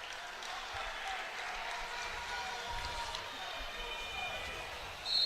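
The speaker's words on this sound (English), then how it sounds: "Already hearing the home crowd wanting a stall call on Schriever." Home crowd at an Iowa vs Illinois college wrestling match, a steady roar of many voices rising into calls during a stalemate, continuous and fairly loud with a sharper swell near the end.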